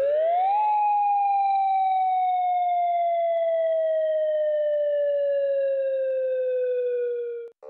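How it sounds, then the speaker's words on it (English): A loud, sustained wailing emergency warning siren being tested in Hawaii rises quickly to a steady pitch, then slowly drifts lower for several seconds before abruptly stopping. "the US state of Hawaii has begun testing its emergency sirens for the first time"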